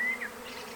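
A brief, steady hum of honeybees inside a freshly opened bait hive, close and fairly soft, with no voices.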